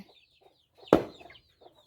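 Chickens at a rice-field hut cluck softly, with one loud, sharp squawk standing out near the middle above the low background clucking.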